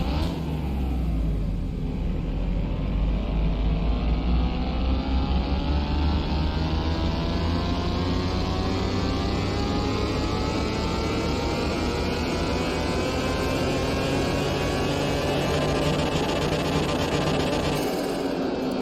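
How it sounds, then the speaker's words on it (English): A 1992 Mazda RX-7 rotary engine in Car Mechanic Simulator 2021 runs on a dyno, its loud, buzzing tone climbing steadily in pitch through one long sustained pull with no talk. "is that what that rotary sounds like?"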